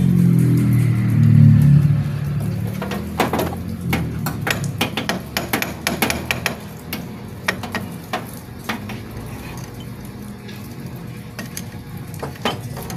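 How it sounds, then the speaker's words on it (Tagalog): Straightening a locked washer on the clutch nut of a Yamaha YTX motorcycle: a low scrape at first, then a series of close, sharp metallic taps and knocks at irregular intervals, with no voices. "dito tinutuwid natin yung washer kasi nakalock yan sa clutch nut"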